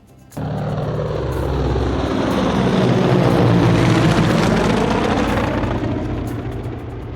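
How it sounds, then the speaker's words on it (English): Loud aircraft engine roar that starts abruptly and swells, then slowly fades, as a plane passes close overhead; no voices. "An aeroplane."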